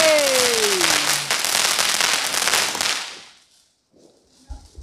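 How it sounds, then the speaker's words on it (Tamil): Loud crackling bursts of Diwali firecrackers going off rapidly for a few seconds, with a whistling tone at the start, then fading to near silence, in Pondicherry. "நீங்க வைக்கிற பட்டாசு மட்டும் எப்படி சூப்பரா போகுது"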